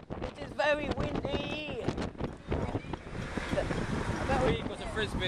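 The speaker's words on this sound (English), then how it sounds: "It is very windy." Strong wind buffets the microphone in rumbling gusts, while people talk and call out nearby over the noise.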